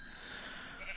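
A sheep bleats in Minecraft, a short, bright, wavering cry held over about a second against a light background hiss.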